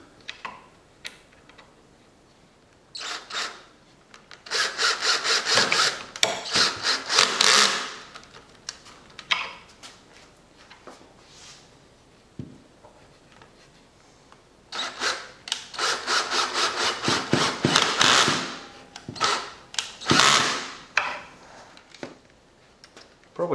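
Pocket-hole screws driven into glued wood joints of a bathroom mirror frame, heard as two long bursts of close, loud drill whirring and ratcheting, each with short pulses before and after and quiet pauses between.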